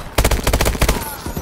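Rapid automatic gunfire from a Call of Duty Advanced Warfare match bursts out in a loud, tight string of shots lasting about a second, then cuts off into a fading tail.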